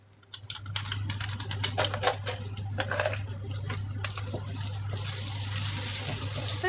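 A little water poured into a pan of browning onions, white sugar and palm sugar while cooking sambal with tempeh and anchovies, splashing in then settling into a steady bubbling sizzle over a low hum.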